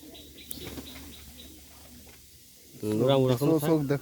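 A female Pakistani Teddy pigeon gives soft chirps and low cooing, close by, partly overlapped by someone talking.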